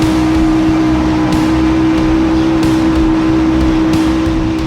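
A blown LS V8 in a 1974 Toyota Corolla K20 drag car, loud and close, holding a steady high-rpm roar with a strong droning tone and no pauses, at a burnout event in Texas.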